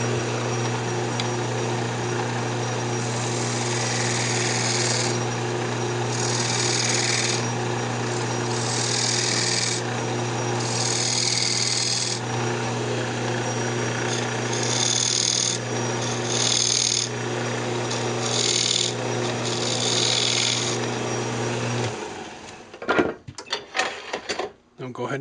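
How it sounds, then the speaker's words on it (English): Wood lathe turning a drop spindle while grooves are cut in one side, a steady loud motor hum with bursts of scraping tool contact, ending in clattering handling sounds. Speech is likely present under the machine noise. "put a couple of grooves in this side"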